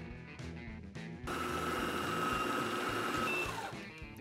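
A food processor whirs steadily, blending red pepper mojo picon sauce with olive oil. It starts in short pulses, then runs in one loud, continuous, close-up burst before winding down.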